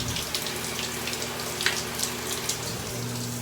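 Water runs from a household shower in a steady spattering hiss, with scattered sharper droplet impacts and a low hum beneath, close by and without voices.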